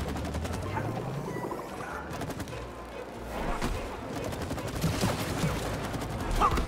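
Rapid shooting in the co-op game It Takes Two, a steady stream of quick pops over game sounds and background noise, with no clear pause between shots.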